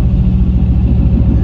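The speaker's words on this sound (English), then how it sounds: "We gotta fix the muffler on here because the muffler rattling and dattling. Only when we hit the gas you hear it." A truck engine with a rattling muffler, heard up close and loud: a deep, throbbing low rumble with a rapid, uneven pulsing rattle running steadily through it.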